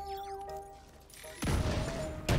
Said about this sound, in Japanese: それで爆発ダメージのある、この、マインを投げていく